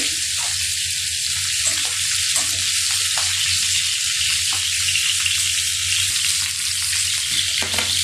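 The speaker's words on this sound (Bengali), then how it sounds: "রান্না মাছ ভাজি করছি" Fish fries in hot oil with a dense, continuous sizzle and crackle, loud and close, with no talking over it.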